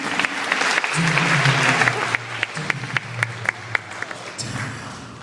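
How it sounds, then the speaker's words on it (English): Audience applause in a high school auditorium during a hypnotist show, a steady wash of clapping that thins into scattered individual claps before swelling again, with a low voice murmuring underneath. "somewhere in the distance, you hear applause"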